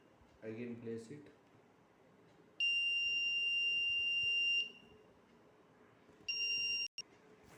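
A Raspberry Pi fingerprint scanner's error buzzer rejects an invalid finger: loud, steady electronic beep tones, one long buzz lasting about two seconds, then a shorter one, following a brief burst of voice.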